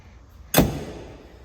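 A half door on a Kubota RTV XG850 Sidekick utility vehicle swings shut with a single close, solid latching thunk that rings out briefly and fades, heard alone with no talk.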